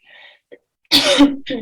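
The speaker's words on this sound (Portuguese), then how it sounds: "A tosse aqui me pegou." A single loud, close cough burst after a brief soft breath, followed by a shorter throaty rasp.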